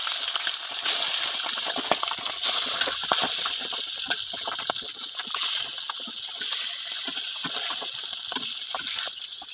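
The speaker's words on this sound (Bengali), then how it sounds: "কড়াইয়ের মধ্যে মাছ ভাজা বসিয়ে দিয়েছি।" Fish frying in hot oil in a wok, a steady broad hiss with scattered crackles and pops, fairly loud and close, continuing without talk.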